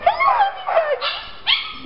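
A female dog barks and yips close by in three excited bursts, with a whimpering, yelping quality, each burst separated by a short pause.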